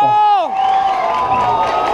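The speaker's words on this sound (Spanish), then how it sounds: "Un aplauso para el bombero que salvó toda la fiesta." Crowd cheering and applauding for a firefighter at a party, an opening voiced shout giving way to mixed cheers, whoops and scattered clapping.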